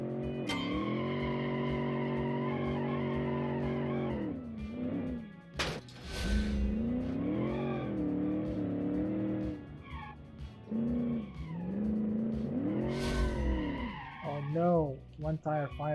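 Tires spin and squeal in the BeamNG video game as a torquey 1975 turbo Discovery sends power to one wheel, with a steady harmonic engine drone and screeching bursts over nearly continuous talk.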